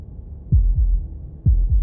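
A deep, muffled heartbeat from the video game Slay the Princess thumps twice in a close lub-dub pair, pauses, then repeats. It is alone and fairly loud.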